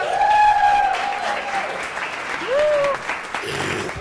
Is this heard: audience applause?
yes